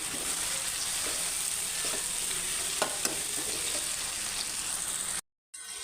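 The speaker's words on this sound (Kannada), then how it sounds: "ಇದು ಕೂಡ ಸ್ವಲ್ಪ ಸಾಫ್ಟ್ ಆಗೋ ತನಕ ಫ್ರೈ ಮಾಡ್ಕೊಳ್ಳಿ" Sliced tomatoes for tomato biryani fry in a hot pan with a loud, continuous hiss and occasional soft stirring taps, the sizzle cutting out briefly near the end.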